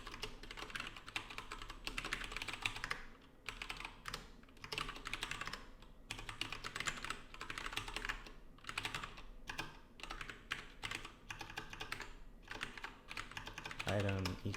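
Typing on a computer keyboard while refactoring Ruby code: a continuous run of quick key clacks with brief pauses, close and moderately quiet, for about fourteen seconds.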